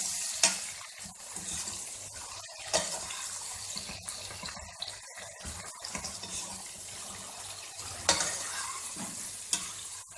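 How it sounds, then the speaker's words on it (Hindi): Tomatoes and green chilies sizzle softly in a pan while being softened for matar pulao. Quiet frying hiss is broken by occasional stirring scrapes and clatters, with no talking. "और मिर्चें डाल देते हैं इसमें और टमाटरों को थोड़ा सॉफ्ट कर लेंगे।"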